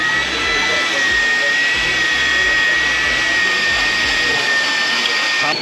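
A Hilti Nuron cordless power tool working stainless steel makes a steady, loud, high whine with a rough grinding texture, continuous and close throughout.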